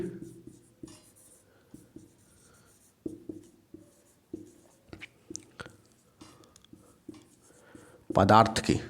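A definition of ignition temperature being written out by hand: a close, steady series of short scratchy pen strokes, ending with a sudden loud rustling burst.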